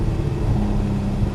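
Porsche Cayman GTS engine drones steadily and close under heavy throttle on track, a brief continuous low rumble and whir with no talking.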